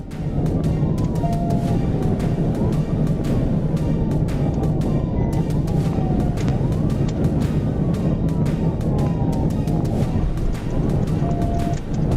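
A police siren wails steadily over loud, dense road and engine noise during a pursuit, rising and falling in long sweeps without pause.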